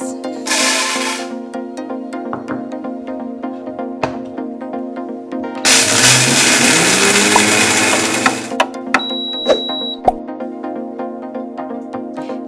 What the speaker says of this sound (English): The OmniBlend can grind coffee beans.